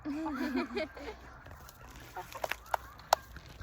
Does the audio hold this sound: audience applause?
no